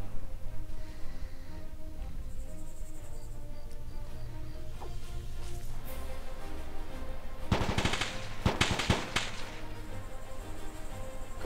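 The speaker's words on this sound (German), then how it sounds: "hier kommt der Schuss rein" Gunfire in the military shooter Arma 2 during a co-op mission, with a burst of rapid, loud shots cracking out near the middle over a steady background hum, followed by a few more sharp reports.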